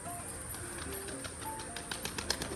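Pigeons flap down to eat maize, a faint rustle of wingbeats that thickens into a quick flurry near the end, with soft coos underneath.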